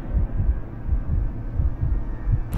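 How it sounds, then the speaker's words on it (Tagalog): Heartbeat sound effect in a Filipino horror story narration, a loud, steady low thumping pulse repeating about once every half second, with no voice over it. "Grabe yung tibok ng puso ko nung sandaling yon."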